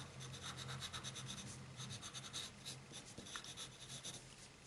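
A pencil colours in a drawing of Toothless with quiet, continuous scratchy strokes that rub back and forth at close range against faint background noise.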